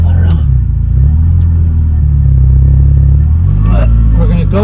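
A 1986 Ferrari Mondial 3.2 Coupe's engine rumbles steadily while driving, a loud low drone that climbs in pitch near the end as it revs.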